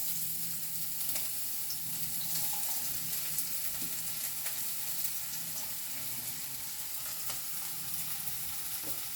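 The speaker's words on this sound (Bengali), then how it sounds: "পেঁয়াজটাকে একটু নাড়াঘাটা করে নিলাম" Onion fries in a pan for chire pulao (poha), a quiet, even sizzle with light stirring scrapes now and then, heard alone and fairly faint.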